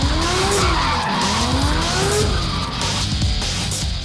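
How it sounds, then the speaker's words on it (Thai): Loud, continuous tire squeal from a car drifting at a race track, rising and falling in pitch over a roaring engine, close and sustained throughout. "เมื่อสักครู่นะคะเขาเรียกว่าการดริฟต์รถใช่ไหมคะ"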